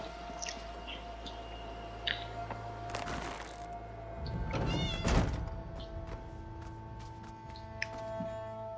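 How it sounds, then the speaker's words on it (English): Cats meowing in Elder Scrolls Online, several short high mews scattered over a soft ambient drone, with a rustling, chewing-like burst in the middle. "Oh yes, kitties."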